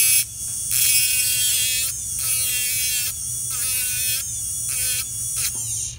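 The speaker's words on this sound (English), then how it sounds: "I usually use just a grinding wheel like this." A dental grinding wheel buzzes at high pitch against an acrylic partial denture, a loud steady whine broken by several short pauses and pressure changes as the piece is worked.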